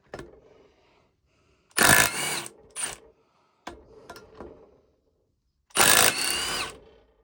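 Power tool, likely an impact wrench, undoing wheel hub bolts on a Land Rover Defender under restoration: two long loud rattling bursts with a few shorter buzzes between them, separated by quiet pauses.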